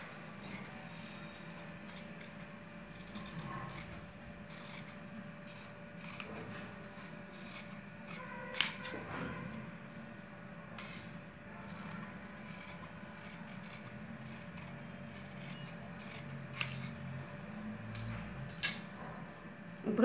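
Scissors snip through blouse fabric along a marked line, giving quiet, irregular metallic clicks and rubbing sounds with a few sharper snips, close by and alone.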